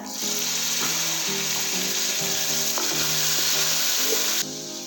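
Browned onions with garlic paste frying in a pan just after a splash of water, for an arvi (taro root) curry: a loud, steady sizzle with occasional stirring scrapes, with no talking.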